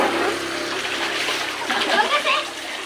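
A dachshund diving and swimming, with continuous splashing and churning water close by, a voice briefly talking over it.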